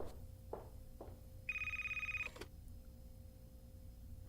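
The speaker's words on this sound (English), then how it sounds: "Go answer the damn phone." An old-style telephone bell rings once in a short electric burst of about a second, fairly close, after a couple of soft knocks, with quiet room hum before and after.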